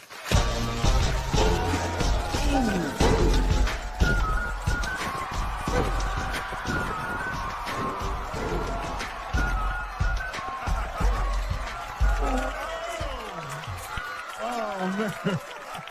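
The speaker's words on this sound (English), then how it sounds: "please give this next gentleman a warm round of applause. Make some noise for what's his face" A comedy show audience claps, whoops and makes noise for several seconds, with thumps and shouts scattered through the din and voices talking over the crowd.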